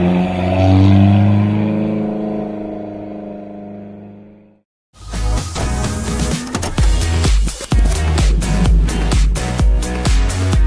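Alfa Romeo 4C sports car: a steady humming engine drone gives way, after a brief silence, to a loud, busy stretch of driving sound with dense, rapid pulsing texture.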